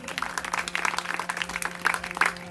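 An audience at a santvani bhajan gathering in Rupal village claps for Bharatbhai Bhuvaji, with dense, even applause close by that holds steady for the whole stretch.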